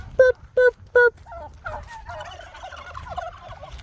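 Turkeys at a farm coop gobble three times in quick, loud, evenly spaced bursts close by, followed by softer, rambling clucks and calls from the flock.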